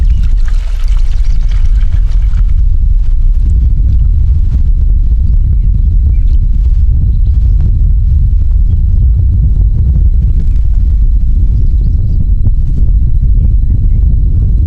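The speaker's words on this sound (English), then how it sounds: "it's a little windy out here again today" Strong, continuous low rumbling buffets of wind hit the microphone throughout, loud and close, with no talking.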